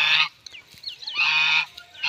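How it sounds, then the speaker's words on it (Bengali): Muscovy ducks kept at home give loud, nasal honking calls nearby in three separate bursts, with quieter squeaky notes between them and no talking. "এই যে এইগুলা হলো আমার আগের পুরান হাঁসগুলো"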